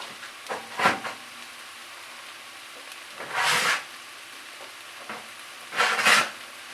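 Vegan sausages sizzle in a frying pan under a faint steady hiss, broken by three louder bursts of stirring and scraping as they are turned, with no one speaking.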